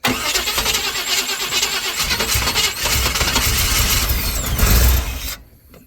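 A 388 stroker engine in a solid-axle-swapped S10 Blazer cranks and fires, running loud and rough with uneven revs close by for about five seconds before it suddenly cuts out.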